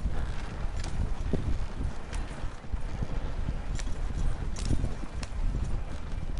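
Horse hooves clip-clop steadily as a single horse pulls a closed sleigh in the video game Red Dead Redemption 2, a continuous rhythmic trot under ambient game sound.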